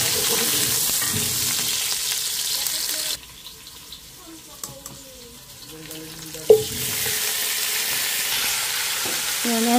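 Potatoes fry in a pan while adobo is being made, a loud, steady sizzle that drops away partway through, leaving softer clinks, stirring and a sharp knock before the hissing returns.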